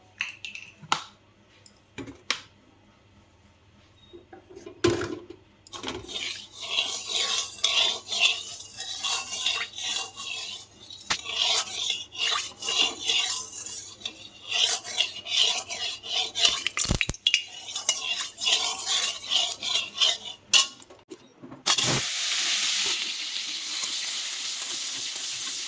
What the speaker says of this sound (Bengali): আলুগুলো আগে ভেজে তুলে নিই।